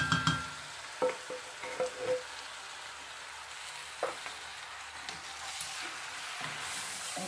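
Crushed tomatoes stirred into Hungarian goulash in a pot: a few scraping stirs near the start over a steady low sizzle that carries on alone, with no talk.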